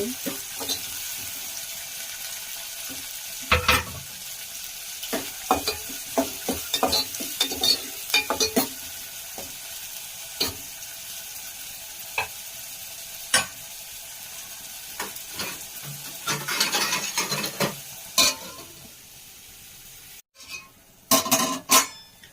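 Onions and green chillies fry in oil in a pan, a continuous sizzle broken by frequent scraping and clinking stirs from a spoon against the metal, growing busier toward the end.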